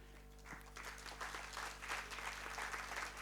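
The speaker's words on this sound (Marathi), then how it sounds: "त्यांचं स्वागत पण आपण टाळ्या वाजवून करूया" An audience at a money seminar in Pune applauds, a soft, fairly distant patter of many hands clapping steadily for a few seconds.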